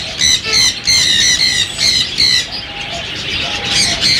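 Alexandrine parakeets in pairs at a bird market give loud, harsh squawks in repeated bursts, close by, with a few quieter calls between them.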